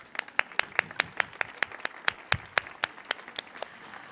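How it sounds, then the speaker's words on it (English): Sparse audience clapping at a flute concert, a handful of crisp individual claps in an uneven, moderately paced rhythm that thins out toward the end, fairly close and with no talking. "Let's give her a round of applause"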